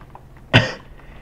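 A single short, sharp cough, close and loud, standing out alone against a quiet background.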